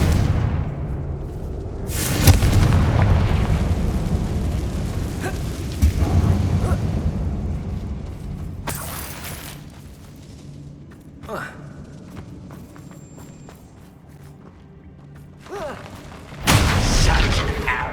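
Confringo fire spell blasts in the video game Hogwarts Legacy, a series of booming explosions inside a mine, with a loud burst near the start, rumbling decay, scattered smaller hits, and another strong blast near the end; a voice speaks at points.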